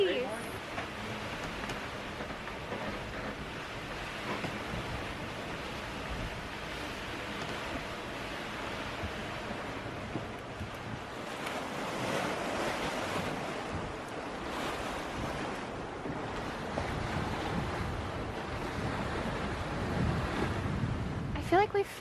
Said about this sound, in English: We finally got the wind this morning.